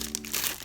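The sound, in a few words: crinkling plastic bag from camera packaging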